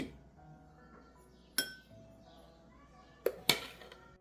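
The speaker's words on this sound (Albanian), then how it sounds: "Marrim gotat, i vendosim këtu në tavolinën e punës." Three sharp glassy clinks, spaced apart, as glasses are set down on a hard surface, with quiet room tone between them.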